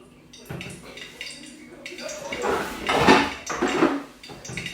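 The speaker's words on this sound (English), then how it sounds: "So now I need to strain the ackee." Ackee gets strained in a metal pot, with clanking and scraping of a utensil against the pot in uneven bursts, loud and close, as someone talks.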